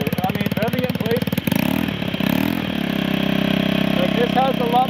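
A stretched Honda Metropolitan scooter engine idles with a steady buzzing putter, then is revved in place to a louder, rougher sustained drone that holds close and prominent through the rest.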